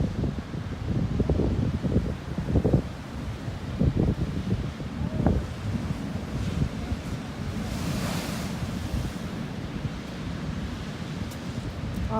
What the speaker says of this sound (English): the tide is coming in slowly, or semi-slowly, but the waves are amazing